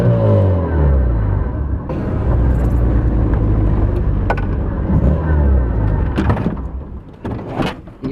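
A damaged Ford Sierra, patched up just enough to drive home with a weak engine, rumbles loudly and closely throughout, with rattles and a few sharp knocks near the end.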